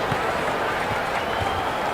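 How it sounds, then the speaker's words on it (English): Simulated basketball crowd at a Duke game, fans on their feet cheering: a dense, steady roar of cheering and clapping fills the space, with a commentator's voice faintly underneath. "The Duke faithful all up standing and cheering"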